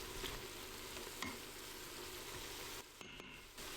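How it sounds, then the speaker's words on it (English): Beef tips being stirred with a spatula as tomato paste is mixed in inside an Instant Pot, giving a continuous frying sizzle with a few scraping strokes and a brief dip near the end. "grab a spatula, stir the tomato paste into the ingredients,"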